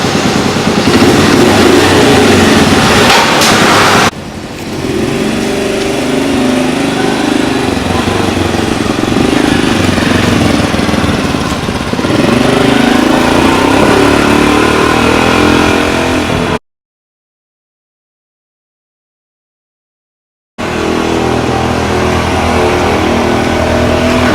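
Honda Cub motorcycle engine, freshly filled with new oil and SOD1 additive, runs loud and steady as the 100-kilometre test ride starts, its note rising and falling with revs, then cutting to silence for a few seconds before the engine resumes.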